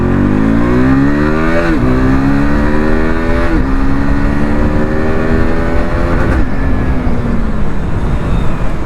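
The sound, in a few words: RC BS3 motorcycle engine revving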